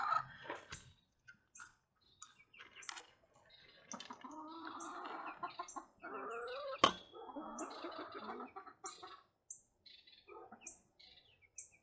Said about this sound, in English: Chickens love them.